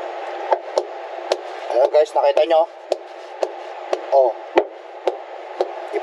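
Sharp, dull knocks against a truck tire to test its firmness, about a dozen separate thumps at irregular intervals, close by, with someone talking between them.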